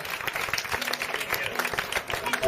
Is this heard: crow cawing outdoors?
no